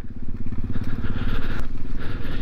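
A petrol motorcycle rides over gravel, its engine a loud, close, rapid thrumming pulse mixed with crunching and crackling from the loose stones under the tyres.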